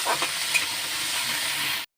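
Small prawns frying in oil in a pan, a steady, close hiss of sizzling that holds evenly for nearly two seconds before cutting off abruptly.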